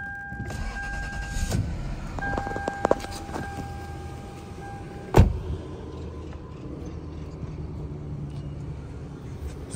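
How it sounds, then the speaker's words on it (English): A 2006 Lexus LS430 cold-starts with a brief crank and sharp catch midway, then settles into a quiet, steady idle after some earlier electric whirring, with no speech. "Let me give you a little cold start here."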